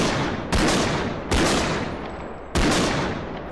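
Gunfire in the video game Bodycam, three loud, sharp bursts about a second apart, each cracking out and then trailing off into a long, noisy decay.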